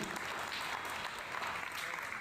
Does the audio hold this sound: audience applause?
yes